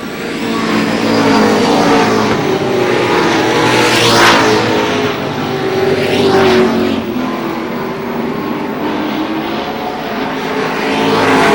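Race cars run the final lap at Lee Speedway in New Hampshire. Loud engines roar and rev continuously, with two or three cars sweeping past close by in sharp surges before the sound settles back to a steady drone.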